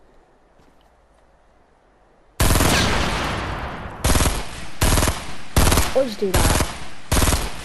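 Loud, close automatic gunfire in a Fortnite playground match, bursting in suddenly after a quiet stretch and then repeating in rapid bursts with short gaps, with a voice briefly speaking over it.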